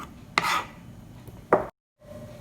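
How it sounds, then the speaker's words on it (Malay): A knife chops through shrimp on a cutting board in two distinct, close, crisp strikes about a second apart, amid a quiet kitchen background. "Okey, kita potong udang kita."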